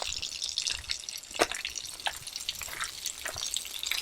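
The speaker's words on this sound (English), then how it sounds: "Look at the water that pump is pushing." Water driven by a pump in an off-grid gravity water system spills and splashes into a tank, with irregular drips and gurgling bursts, fairly close and moderately quiet, with no voices.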